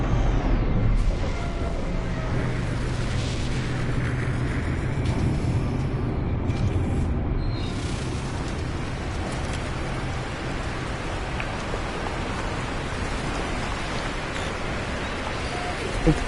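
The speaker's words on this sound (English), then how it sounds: "Incoming storm." A storm in No Man's Sky rolls in as a dense, steady roar of rain-like noise with low rumbling underneath, loud and continuous throughout with slight swells.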